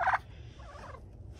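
A single short turkey gobble rings out at the start, followed by quieter, faint rattling calls in a calm outdoor setting.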